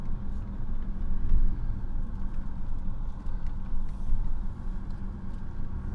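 A Mercedes-Benz W126 500 SE with a V8 engine cruising along, a steady low rumble of engine and road noise heard from inside the car, even and continuous with no voices.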